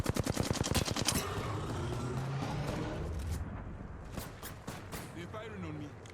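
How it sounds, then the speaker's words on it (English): Rapid automatic gunfire bursts loud and close in the video game Apex Legends, a dense rattle in the opening second easing into sustained sound with scattered distant shots, while players talk over it. "They're firing on me."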